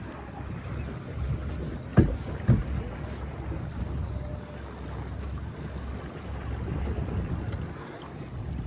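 A small sailing dinghy glides over open water, with steady wind rumbling against the microphone, soft water lapping, and a couple of brief knocks from the hull or rigging.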